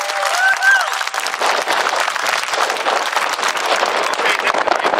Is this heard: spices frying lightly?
no